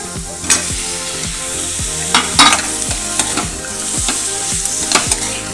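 Vegetables for tomato soup frying in butter or ghee, a steady sizzle broken by repeated scraping stirs of a spoon against the pan, close and clear with no talking.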